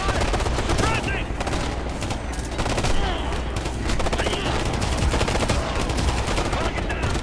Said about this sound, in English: Taking heavy fire! Suppressing!